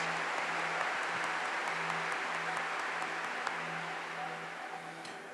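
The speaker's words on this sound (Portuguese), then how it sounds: "vamos aplaudir a palavra bem forte, mais forte, mais forte" Congregation applauding at a Catholic family-themed church service, steady broadband clapping sustained throughout at moderate distance, with a low hum underneath and no talk.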